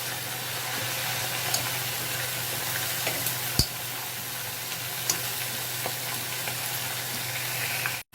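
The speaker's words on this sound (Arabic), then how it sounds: "وابدا انزل على الزيت وما كترش عشان تنشف كويس" Floured bisaria fish frying in oil, a steady close sizzle with a continuous crackling hiss and scattered small pops, running throughout with no talk before cutting off abruptly at the end.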